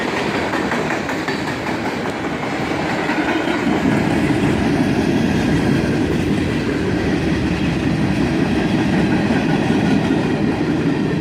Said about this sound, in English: A pair of ET-44 AHs lead this northbound train through the crossing.